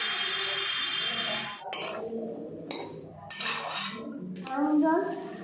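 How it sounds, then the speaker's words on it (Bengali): Boiled peas being stir-fried with cumin and spices in a pan for ghugni, with a spatula scraping and clinking against the metal in a few separate strokes, fairly close and moderately loud, no talk. "এবার সিদ্ধ মটরগুলো দিয়ে একটু কষে নেব।"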